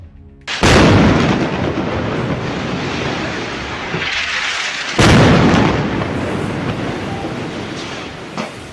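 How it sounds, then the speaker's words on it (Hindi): A powerful IED blast detonates against Israeli soldiers in Gaza war footage, a loud broadband boom that rolls into sustained rumbling, followed by a second heavy explosion around midway and continuing debris roar, with no voices. "इस आईईडी में जोरदार ब्लास्ट कर दिया जाता है।"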